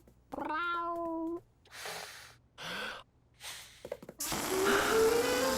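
Cartoon cat voice giving a drawn-out meow, followed by gasping and snorting vocal sounds in short bursts, then a loud rising noisy swell at the end; no speech.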